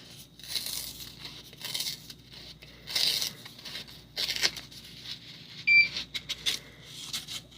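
A plastic mold is peeled away from a homemade TNT bath bomb, giving close, crackly tearing and crinkling bursts in short irregular spurts, with a brief electronic beep partway through.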